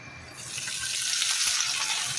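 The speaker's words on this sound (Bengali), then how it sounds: "ফোড়নটা একটু ভেজে নিয়ে তারপর এর মধ্যে দিয়ে দেব আলু আর উচ্ছে।" Potato and bitter gourd fry in mustard oil with a dried red chilli and panch phoron tempering. The hissing sizzle is steady, close and continuous, with faint stirring.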